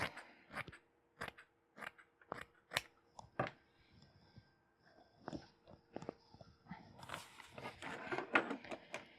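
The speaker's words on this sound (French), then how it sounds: "Et on va couper pour être plus à l'aise." Scissors cut fabric for sewing a hooded scarf: a quiet, close series of crisp snips in an irregular rhythm, followed by softer rustling of the cloth.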